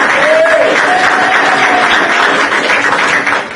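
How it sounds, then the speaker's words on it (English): An audience applauds loudly, dense clapping that holds steady for a few seconds before starting to taper off. "Give an excellent applause."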